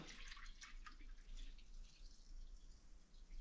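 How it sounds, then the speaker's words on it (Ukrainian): Plain water is poured into a bottle, producing a faint, steady gurgling trickle with small splashy bursts, quiet and close with no talking. "Так, заливаємо в бутилку."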